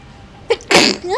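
A single sharp sneeze with a short breathy intake before it, loud and close, followed by a brief voiced sound.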